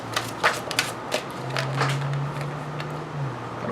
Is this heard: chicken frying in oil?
no